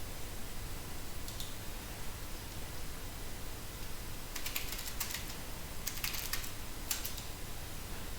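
Quick bursts of typing on a computer keyboard at a Windows PC, several clusters of rapid key clicks over a steady background hiss, with no talk.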